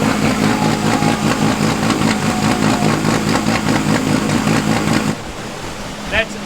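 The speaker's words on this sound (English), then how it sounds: "Got the lumpy idle." A tuned Ford Focus drift car with a 600 kW tune chugs through a loud, lumpy, uneven idle for about five seconds before the sound drops away abruptly.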